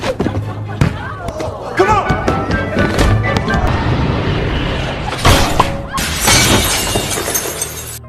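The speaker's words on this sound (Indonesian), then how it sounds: "Malah hancur ya ring basketnya" A basketball hoop shatters in a school gym scene from The Amazing Spider-Man, a loud crash of breaking glass and debris over dense film score and effects, with a bright burst of shards near the end.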